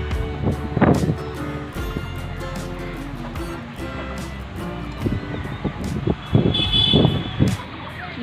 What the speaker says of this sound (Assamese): বতাহ মাৰি আছে